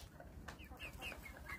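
A pair of pet hens clucks faintly in short, scattered calls against a low background hum, with no voices.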